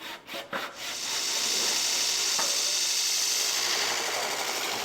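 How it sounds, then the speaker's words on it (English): Hand sandpaper rubs steadily along a wooden mallet handle in a woodworking class, a continuous close rasping that follows a few short strokes at the start. "you could smooth that a little bit with some hand sandpaper"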